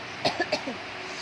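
A few short, rough coughs in quick succession, close by, followed by a faint throaty sound.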